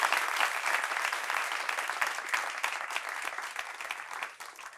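Studio audience applauding at the close of a television talk show, a bright continuous burst of many hands clapping that holds steady and then thins out toward the end.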